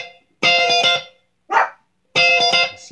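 Dogs bark close by and loud: three short bursts of barking separated by brief silences.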